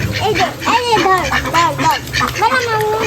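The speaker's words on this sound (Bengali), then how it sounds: "অনেকগুলা হাঁস পালে" Several ducks quack repeatedly at close range, their nasal calls overlapping in an irregular, lively chatter.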